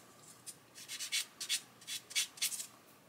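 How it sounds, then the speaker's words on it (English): A round plastic model kit chassis part is gently sanded with a sanding sponge, giving a series of short, soft rubbing strokes in an uneven rhythm, close up and quiet, with no one talking. "just come in and gently sand that. Because it's round, use a sponge"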